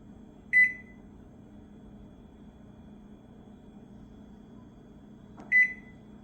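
Quiet steady low hum of a 700-watt microwave oven running on express cooking at full power, with two short bright beeps, one near the start and one near the end.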